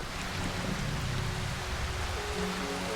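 Steady rain in the survival horror game Darkwood, a dense even hiss of falling water with a low rumbling undertone that holds without a break.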